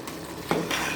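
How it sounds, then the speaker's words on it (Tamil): Vegetable biryani simmering in a pot, a steady close bubbling and sizzling hiss with a brief metallic clink partway through. "இப்போ இன்னும் கொஞ்சம் நல்லா கொதிக்கட்டும்"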